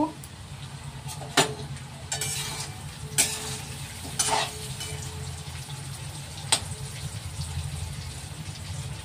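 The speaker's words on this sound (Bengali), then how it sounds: "পেঁয়াজ রসুন ফ্রাই করব" Onion and garlic frying in a pan, a steady low sizzle running throughout with a few sharp stirring clinks and scrapes close by, no one talking.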